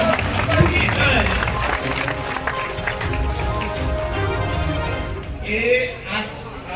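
A crowd claps and cheers amid loud hubbub and overlapping voices at a BJP victory rally in Diphu, the applause swelling and fading.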